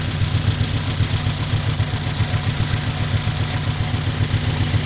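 A steady, rhythmic mechanical whirring and knocking comes from the transmission of a 2003 Honda Civic, pulsing evenly over a low engine hum, close and continuous with no talking.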